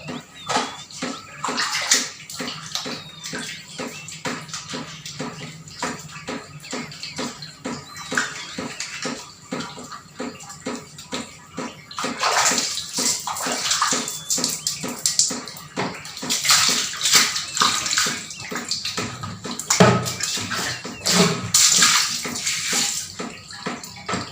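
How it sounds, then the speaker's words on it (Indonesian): Feet and hands washed under running water outdoors near a garden pipe, a continuous splashing flow with rapid rhythmic slaps and sloshes, getting louder and busier in the second half, with no talk. "aku mau cuci kaki dulu. Dan cuci tangan biar bersih."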